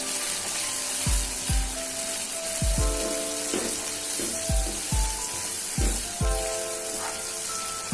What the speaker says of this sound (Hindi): और इसमें अभी तेज पत्ता डालेंगे और ये देखिए दालचीनी उसमें डाल देंगे थोड़ा सा पाउडर वाला और उसको अच्छे से मिक्स करेंगे।